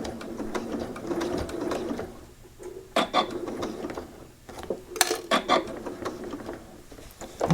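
A sewing machine stitches binding off the edge of a quilt, with a short whirring run near the start followed by clicks, fabric handling and small mechanical knocks close by.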